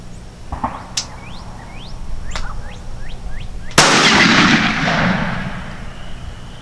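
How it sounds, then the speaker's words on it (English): An over-and-under turkey hunting shotgun loaded with bird shot fires at a target outdoors, with a few sharp distant cracks and chirping birds, then one loud close blast with a long rolling echo. "let's throw a couple rounds down range"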